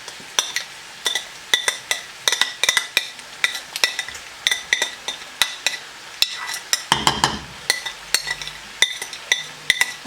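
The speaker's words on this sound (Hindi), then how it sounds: "तो देख लें, अच्छी तरह इसको मिक्स कर लेते हैं।" Spoon stirs ground masala into paneer karahi in a pan, a close series of sharp clinks and scrapes against the metal in an uneven rhythm, with a faint sizzle underneath and a brief rustling shuffle midway.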